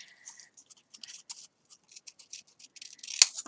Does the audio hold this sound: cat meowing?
no